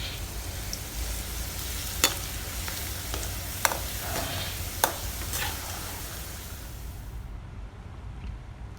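Steady sizzling of cashews and raisins frying golden brown in hot oil, with a few sharp clicks and pops from stirring, close up and continuous.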